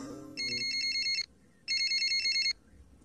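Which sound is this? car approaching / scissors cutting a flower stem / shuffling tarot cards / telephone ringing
telephone ringing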